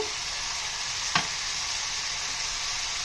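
Tomato pieces with turmeric and tamarind sizzle steadily in a pan for a tamarind-tomato pickle, a soft continuous hiss with one brief stir or clatter partway through, no voices.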